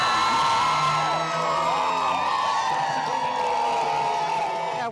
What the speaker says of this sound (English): there is a whole host of people cheering him on.